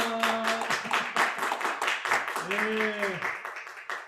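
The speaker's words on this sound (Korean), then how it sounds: "우리 박수로 한번 환영하도록 하겠습니다" A church congregation at a winter retreat claps in welcome for the pastor, a steady crowd of hand claps mixed with someone speaking over it.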